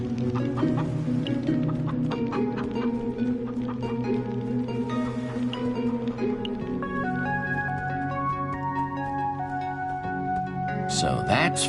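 Chickens clucking in Minecraft: Story Mode, repeated bird calls heard over a continuous game soundtrack, with people talking throughout.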